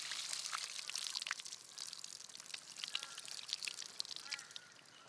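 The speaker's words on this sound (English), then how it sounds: "Tip the water off." Water is tipped out of a container in the bush, giving a continuous splashing, trickling pour with fine droplet crackle throughout, fairly faint and close.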